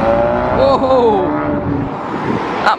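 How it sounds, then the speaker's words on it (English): Ford Mustang accelerating hard and sliding while leaving a Fast Fords car meet, its engine note sweeping up and down nearby, with an excited voice over the revving. "That Mustang got a bit slidey"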